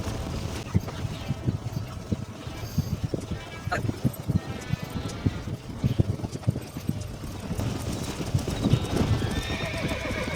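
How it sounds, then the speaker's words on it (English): A wild stallion being broken in the Red Dead Redemption video game, with rapid clip-clopping hooves, snorts and whinnying over a busy game soundscape; someone talks throughout. "Solo horse breaking. Stop the horse."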